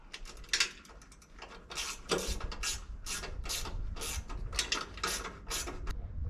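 A breakaway switch is screwed onto a homemade powder-coated equipment trailer with a ratcheting tool, giving about a dozen quick, close clicking bursts in an uneven rhythm, with no talk.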